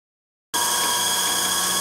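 A power drill whirs steadily after a half-second of silence, a close, continuous high-pitched grinding with no pauses, drilling a small 1/8 inch hole into a metal dividing head plate.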